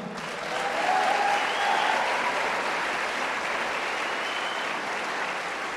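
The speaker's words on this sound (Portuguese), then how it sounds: "Give the Lord a big hand." A church congregation claps for the Lord in a broad, continuous roar of applause that swells early and stays full and even, with faint voices barely rising above the clapping.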